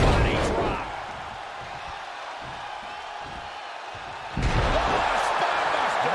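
A spinebuster drives a wrestler into the mat during a Lesnar versus Hulk match, a loud slam early on, then crowd noise that swells again later, with commentators talking.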